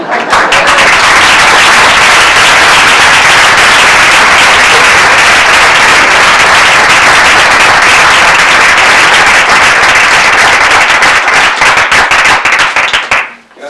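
A live audience applauding after an oral storytelling performance, loud dense clapping that holds steady for several seconds and then breaks up into scattered claps before stopping abruptly.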